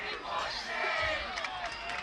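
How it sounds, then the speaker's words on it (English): Football crowd chanting together in the stands, calling for a field goal, a broad roaring babble of many voices at a distance, sustained through a brief moment. "Crowd chanting, "We want Shane," calling for a field goal."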